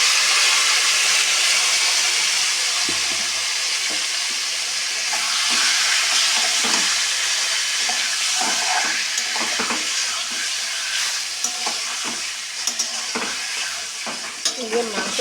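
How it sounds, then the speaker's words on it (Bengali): Marinated meat pieces sizzling loudly in hot oil, a dense continuous crackle with occasional sharper pops and spatters, close and steady throughout with no talking. "এইবারে সেই ম্যারিনেট করা মাংসগুলো তেলের মধ্যে একে একে ছেড়ে দিতে হবে।"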